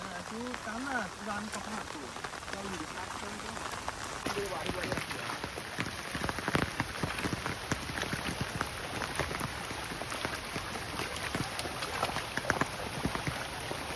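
Heavy rain pours down during a fishing outing, a dense steady patter of drops on surfaces with sharp splashes, while a voice talks briefly at the start and a faint high whine runs through.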